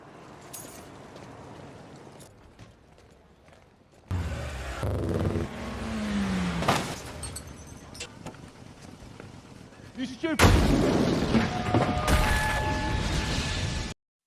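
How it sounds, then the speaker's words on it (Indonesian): Loud explosion in a film scene, a sudden heavy blast that erupts midway and is followed by a roaring, crackling aftermath with debris, preceded by quieter street ambience and a brief voice. "tiba-tiba terjadilah sebuah ledakan hebat"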